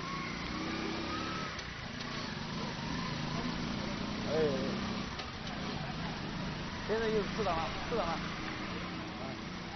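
A small motorcycle engine strains under a heavy load of about eleven adults plus the 400 kg machine, a low continuous drone with slight revving under a voice-over.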